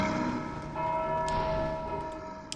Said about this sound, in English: This was a bell.